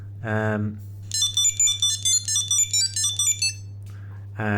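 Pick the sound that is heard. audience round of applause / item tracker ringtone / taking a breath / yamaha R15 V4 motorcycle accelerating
item tracker ringtone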